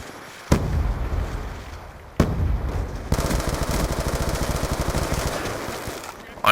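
Gunfire in Call of Duty Black Ops 2: two loud single blasts with decaying tails, then a long, rapid automatic burst of evenly spaced shots, close and dominant.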